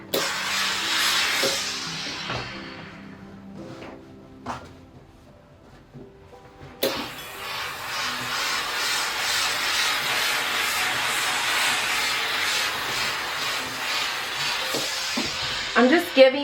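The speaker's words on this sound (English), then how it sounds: "But let's steam it real quick, okay?" A garment steamer hisses against a T-shirt in loud bursts, the first fading out, a short pause with small clicks, then a long steady hiss resuming with a few sputters near the end.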